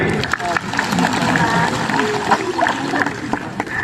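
Applause from a school morning assembly crowd welcomes Kak Dewi, a dense, steady patter of clapping that fills the whole moment, with voices mixed into the noise.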